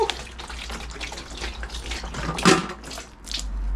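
Engine oil gushing from a removed oil filter on a Mercedes CL600 V12, a steady close splashing and pouring of liquid that swells briefly midway, with no talk over it.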